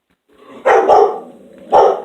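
A dog barks nearby in an indoor setting: a low grumble rises into two loud barks close together, then a third bark follows after a short pause.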